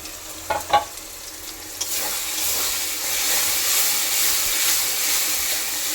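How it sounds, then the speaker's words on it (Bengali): Mutton fries in oil with a steady broadband sizzle that swells over several seconds, preceded by a few brief stirring clatters, with no talk. "চলো এটা আস্তে আস্তে ধীরে ধীরে ভাজা হতে থাক"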